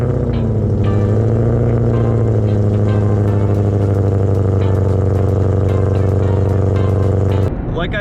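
A modded Ford Mustang 5.0 with 440 horsepower to the wheels drones loudly and steadily from inside the cabin, its engine note rising slightly before cutting off near the end.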